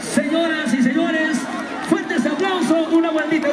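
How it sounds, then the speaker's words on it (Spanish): Crowd at a Takanakuy-versus-tinku fighting bout in Juliaca, Puno, cheering and whooping in a dense, steady roar with scattered shouts, loud and continuous throughout. "Fuertes aplausos."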